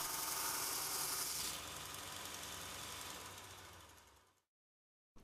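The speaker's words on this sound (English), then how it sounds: "turn the roughing gouge upside down and hold it against the side of the V-block, and slide the tool up to the belt as before" Robert Sorby ProEdge belt sharpener grinding a roughing gouge held upside down against a V-block, a loud steady abrasive whir with motor hum that eases slightly partway through, then fades and stops abruptly near the end.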